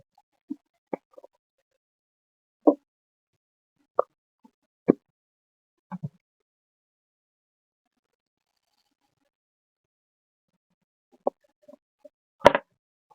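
Mustard seeds are dropped into a dry pan for a Tamil-style avarakkai paruppu usili, giving a few scattered, faint pops and plops with long quiet gaps between them and one louder crackle near the end.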